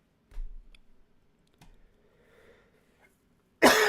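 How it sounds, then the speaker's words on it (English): A single short cough, close but muffled, is followed by faint clicking and quiet room noise, then a loud burst of noise cuts in at the end. "Sorry for the cough."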